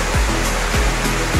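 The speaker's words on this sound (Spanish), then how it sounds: "esta es la famosa cascada de Los Tercios en Sisitoto" Los Tercios waterfall near Suchitoto, El Salvador, pours over columnar rock, giving a loud, steady, close rushing roar of falling water with no voices.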